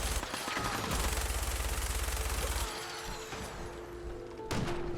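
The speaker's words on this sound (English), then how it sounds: "Wow, you are taking some bullets, man." Gunfire in the video game Fallout 4: a dense, loud stretch of rapid automatic fire that cuts off partway through, followed by a quieter rumble and a final burst, with no talk.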